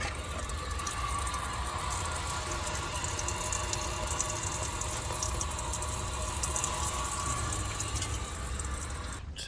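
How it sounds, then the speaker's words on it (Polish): Steady rush of tap water running into a sink in a camper van, continuous and fairly loud, with a faint water pump hum underneath. "Odkręcę wodę, włączę pompkę. Woda się leje tak"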